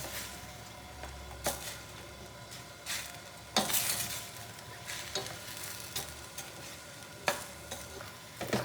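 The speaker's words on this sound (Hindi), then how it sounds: "मसाले डाल के मैंने इसको भून लिया" Chicken stir-frying in a pan with black pepper, red chili and salt, a steady sizzle broken by irregular scraping and clanking stirs of the utensil, close and fairly loud, with no talking.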